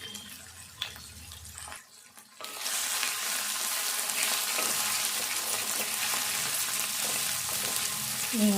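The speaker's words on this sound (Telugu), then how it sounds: "ఇట్లా కలుపుకుంటే మంచిగా వేగుతుంది" Ginger-garlic paste being fried and stirred into an onion and moong dal curry, starting as a loud continuous sizzle after a brief quiet gap, with occasional spoon scrapes close by.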